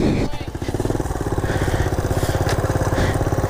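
A 1967 Honda CT-90 motorcycle chugs along a rough trail, its small engine putting out a loud, rapid, even thumping pulse close by for the whole stretch.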